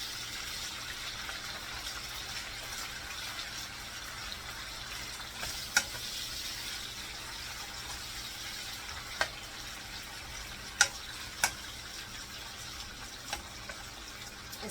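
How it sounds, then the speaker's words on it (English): Mushrooms fry on their own in an oiled pan for a beef stir fry, a steady broadband sizzle throughout with occasional sharp pops and clicks, no talking. "I'm gonna cook my mushrooms separate like I did the meat"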